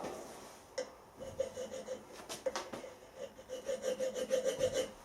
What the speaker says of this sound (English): I just want a little flat file on there now for that grub screw to lock into.